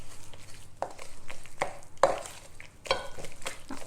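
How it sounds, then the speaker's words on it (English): Eggs are worked into blueberry muffin batter with soft, wet stirring and scraping in a bowl, punctuated by several sharper knocks of the utensil, close and fairly loud with no talking. "the best thing to do is just to mix them one at a time with the mixture"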